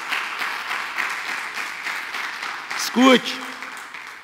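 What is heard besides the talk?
applause for the Lord in church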